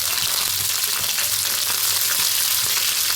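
Curry leaves and mustard seeds frying in a little white oil, a loud, dense, continuous sizzle with faint crackles and pops throughout.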